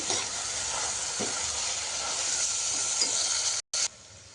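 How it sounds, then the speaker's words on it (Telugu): Mint, fenugreek leaves, coriander and curry leaves fry in hot oil while being stirred, giving a steady, close sizzle and hiss that breaks off briefly near the end. "పుదీనా మెంతికూర కొత్తిమీర కరివేపాకు అన్నీ కూడా ఇందులో వేసి చక్కగా అయితే కలుపుకుంటూ వేపుకుంటున్నానండి"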